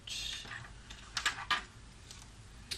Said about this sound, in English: Pull the washi tape across, and then you just cut that piece out